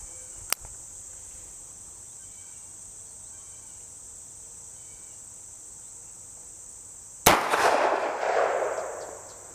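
A single sharp, loud shot from a Bond Arms Rough n Rowdy pistol cuts through steady outdoor insect chirring and rings out briefly afterward. A faint click comes earlier.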